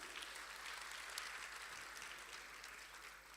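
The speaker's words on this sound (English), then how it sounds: "A round of applause for her, ladies and gentlemen," Audience applause at a university long service, retirement and excellence award ceremony, a quiet but steady patter of clapping from across the hall that continues evenly without voices.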